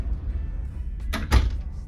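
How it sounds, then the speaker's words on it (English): The door of a large balcony cabin on the Marella Voyager cruise ship swings shut on its own, giving a soft pair of close knocks and a muffled latch over a steady low hum of the cabin. "And the door closes"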